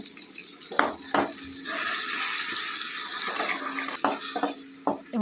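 A paste of ginger, garlic, onion and green chilli fries in hot oil with a continuous hiss, broken by a few sharp spatula knocks against the pan, close up.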